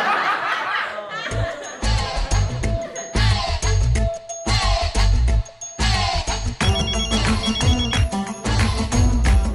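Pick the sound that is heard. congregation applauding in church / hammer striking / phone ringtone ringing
phone ringtone ringing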